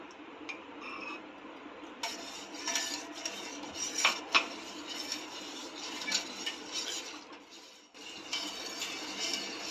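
A spoon clinks and scrapes against a bowl while stirring yogurt into milk for Kolkata-style mishti dahi, with irregular close metallic taps and swirling scrapes and a brief pause near the end.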